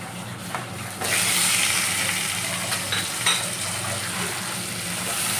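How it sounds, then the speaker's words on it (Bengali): Pumpkin pieces frying lightly in hot oil, the same oil just used for frying fish, giving a steady close sizzle that swells after the first second and holds with small crackles and faint clinks. "কুমড়োগুলো একটু হালকা করে ভেজে নেবো এই তেলটাতেই"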